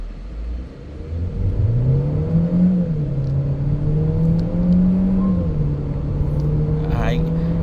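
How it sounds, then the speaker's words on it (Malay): Proton S70 four-cylinder car, 181 PS and 250 Nm, accelerating at full throttle, its engine note rising steadily and staying loud and continuous inside the cabin, with a droning whir throughout and brief chatter in the background. "Jom tengok dia punya power. Saya tekan full throttle."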